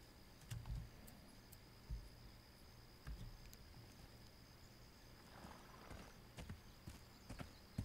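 Horse hooves clip-clopping in the video game This Land Is My Land, faint irregular thuds spread over several seconds against a quiet outdoor ambience.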